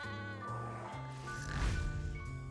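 A sheep bleats in an Overwatch skin animation: drawn-out, wavering cries with a slight swell near the end, set over soft tonal background sounds from the game.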